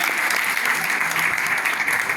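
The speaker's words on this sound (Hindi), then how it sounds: "ताली बजाओ तो जोर वाली बजाओ, ट्रेन वाली नहीं" A meeting audience claps loudly and steadily, a dense wash of many hands filling the room with no pauses, as the crowd is urged to clap hard rather than in a slow rhythm.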